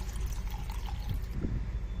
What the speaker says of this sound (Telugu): ఇప్పుడు నేను వాటర్ వేస్తున్నాను